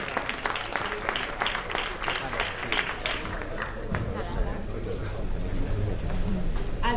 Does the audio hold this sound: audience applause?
yes